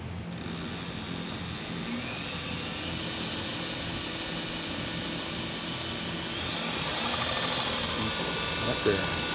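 A Toolcker 1x30 belt sander runs at about 2,000 RPM with a steady whine while a knife is sharpened on it, the grinding growing louder and harsher toward the end.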